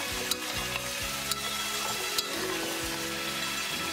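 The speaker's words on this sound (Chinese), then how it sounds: "再加入葱姜蒜和备好的香料翻炒均匀" Scallion, ginger, garlic and whole spices are stir-fried with pig trotters in a wok, a constant sizzle broken by three sharp scraping clicks of the spatula spaced about a second apart.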